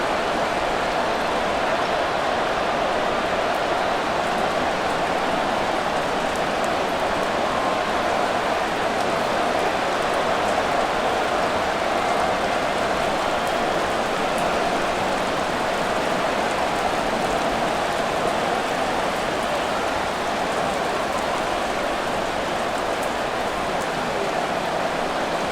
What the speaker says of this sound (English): The rain set to continue as we are underway in the 2nd half.